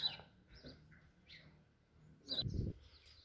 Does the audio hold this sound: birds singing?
yes